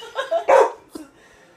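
A dog in a living room barks at a bat. There are a few sharp, loud, close barks, a short yip, then quiet.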